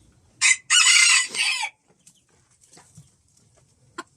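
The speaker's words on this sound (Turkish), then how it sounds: "Buradaki benim ana horozum. Bunlar da onun, onun tavukları." A rooster crows loudly and close by in a long burst, followed by faint scattered clucks from his hens in a backyard coop.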